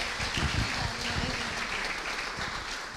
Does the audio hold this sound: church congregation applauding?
yes